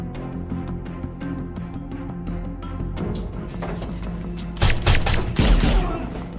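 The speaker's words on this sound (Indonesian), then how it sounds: "hingga terjadi sedikit baku tembak di antara teroris dan pasukan Komandan Kovacs." Gunfire exchange between terrorists and soldiers during a rescue raid on a terrorist hideout in Afghanistan, heard as a dense fusillade of shots with heavier bursts and booms toward the end, loud and close, no talking.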